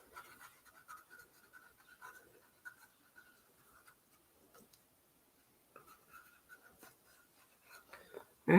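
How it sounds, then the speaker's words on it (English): A Stabilo 8046 pencil scratches across paper while sketching a landscape composition, quiet close strokes in short bursts separated by brief pauses, with faint murmured speech in the background. "I'm going to take my pencil again, Stabilo 8046, and do the composition"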